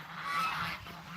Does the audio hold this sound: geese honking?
yes